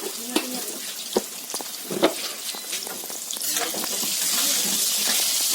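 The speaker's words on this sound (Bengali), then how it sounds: "আলুটা একটু ভাজা হোক" Potatoes frying in hot oil with turmeric and salt for a chicken curry, a steady sizzle that swells louder toward the end, broken by sharp clinks and scrapes of stirring in the pan.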